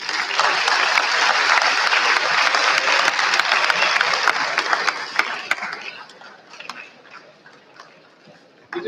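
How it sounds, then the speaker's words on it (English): A crowd applauds loudly and steadily for several seconds, then the clapping thins out and fades to scattered claps near the end. "Please give a huge round of applause"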